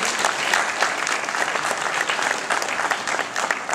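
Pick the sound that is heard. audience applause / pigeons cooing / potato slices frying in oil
audience applause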